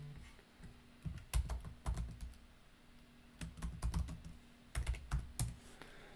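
Quiet clicking on a computer keyboard, short bursts of several keystrokes separated by brief pauses, close and alone without talk.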